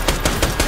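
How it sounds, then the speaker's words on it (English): Rapid gunfire from the Borderlands: The Pre-Sequel video game, with bursts of shots about every fifth of a second that sound steady, loud and close, and no talking over them. "As you shoot me, I shoot back"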